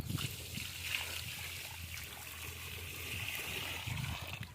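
Water from a small village irrigation channel is poured onto a plant, a faint, steady trickle and splash with soft sloshing in a quiet outdoor setting.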